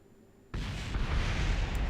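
A rocket explodes in Kerbal Space Program: after a quiet moment, a sudden loud blast breaks into a sustained, rumbling roar that continues to the end.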